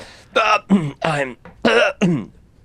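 A person coughs and clears their throat in a short run of loud, voiced, hacking bursts close by, as if covered in ash, acted out during a tabletop role-playing game.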